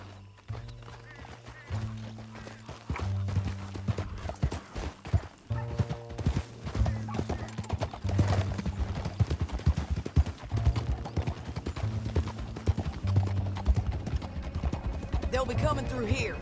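Horse hooves gallop in a rapid, rhythmic clip-clop through a canyon in Red Dead Redemption 2, running continuously and close under a steady music bed, with an occasional whinny and brief voices.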